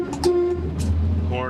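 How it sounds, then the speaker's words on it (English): The horn of a 1967 Chevrolet Camaro with a numbers-matching 327ci engine sounds in short, close toots, with a voice talking around it. "Horn is working good."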